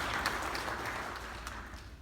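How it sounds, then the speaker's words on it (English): A church congregation claps for the fathers on Father's Day, a dense round of applause with a few sharper individual claps standing out, gradually thinning toward the end. "let's give a round of applause for all the fathers"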